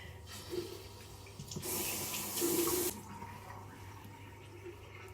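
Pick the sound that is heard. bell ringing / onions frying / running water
running water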